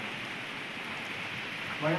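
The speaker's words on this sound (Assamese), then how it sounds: "ধোঁৱা কোৱা বৰষুণ দি আছে পূৰা" Steady rain falling on a hill, a dense even hiss throughout, with a voice starting faintly at the very end.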